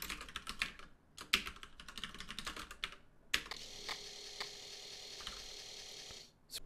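Rapid clattering keystrokes on a computer keyboard as a program listing for a Commodore 64 SID music player is entered, bursts of typing broken by brief pauses, close and steady with no talking.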